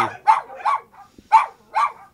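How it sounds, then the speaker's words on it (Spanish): Several dogs bark in short sharp bursts at a neighborhood home in La Gabriela, four or five clear, fairly close barks spaced irregularly with quiet gaps between them. "En La Gabriela, aunque muchos vecinos tienen sus propias mascotas, los perros de Edgar ya son famosos"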